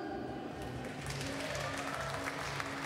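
Spectators at a girls' semi-final of the World Squash Junior Championships clap and cheer in a steady, dense wash of applause, with a voice faintly audible underneath.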